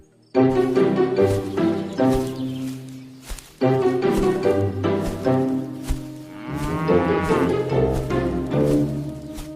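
Cartoon cow mooing loudly and up close in several long, drawn-out lowing calls, the last one wavering, with no talk.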